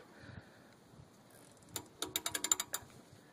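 A socket wrench ratchets as it loosens a tight car oil drain plug during an oil change, a quick burst of about eight sharp, close clicks after a few faint earlier ticks.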